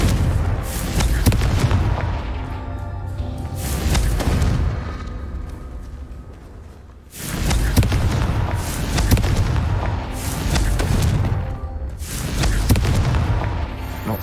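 Repeated booming explosions from the Confringo fire spell in the video game Hogwarts Legacy, loud blasts each followed by a rumbling decay, occurring in two heavy clusters.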